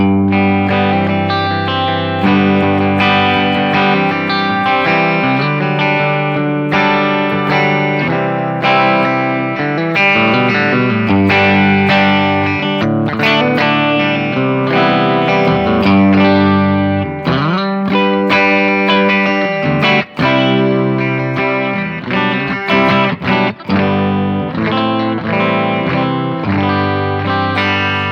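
Rickenbacker 330 electric guitar through a Boss GX10 on its Ricky Gervais patch: continuous loud, effect-laden playing with shimmering chorus and distorted sustain, chords ringing steadily for the whole stretch with no talking.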